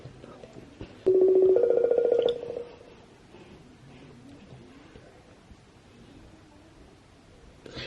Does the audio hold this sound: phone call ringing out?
yes